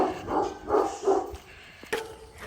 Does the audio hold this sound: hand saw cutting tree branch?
no